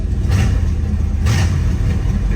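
An old V8 car engine with a sticking throttle runs loud and close, its low rumble swelling twice as the revs rise and hold high.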